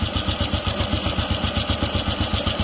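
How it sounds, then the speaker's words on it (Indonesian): A 1985 Honda Win 100 classic motorcycle idles close by, its engine beating in a quick, even, smooth pulse that stays steady throughout with no talk over it. "jenengan dengar suaranya motor mas? Suaranya motor, lihat mas, loh, halus sekali"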